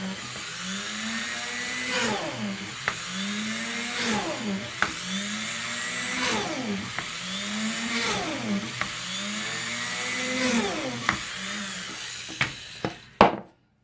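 Holes being drilled into a wooden family plaque, the drill whining up and down in about six regular cycles with sharp clicks between passes, ending in a brief clatter.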